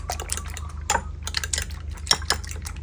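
Quick, irregular clinks and taps of a fork beating an egg mixture in a bowl, close up and fairly quiet, with no talking.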